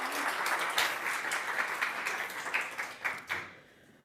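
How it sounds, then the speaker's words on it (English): An audience applauds at the end of a PyCon conference talk, a dense burst of clapping that holds steady and then tapers off toward the end, heard at a moderate distance with no voices over it. "another big applause for Rachel"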